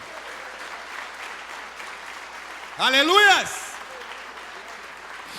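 A church congregation claps in a steady, fairly even wash, with one voice briefly shouting out loud over the applause partway through.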